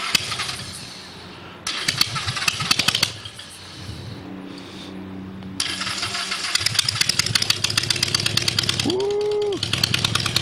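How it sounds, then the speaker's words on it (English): A motorcycle engine cranks and fires, stutters briefly, then catches and settles into a loud, close, steady idle with rapid pulsing exhaust beats; a short tonal squeal rises near the end. "I'm used to these motorcycles having a loud exhaust"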